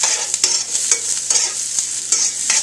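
Onion, garlic and mushrooms sauté in MCT oil with a steady close sizzle, broken by several sharp scrapes and clacks of a utensil stirring the pan, and no voices.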